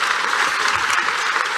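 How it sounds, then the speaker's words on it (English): Assembly audience at an alumni awards event gives steady, dense applause, sustained evenly throughout the short stretch. "You guys deserve a round of applause"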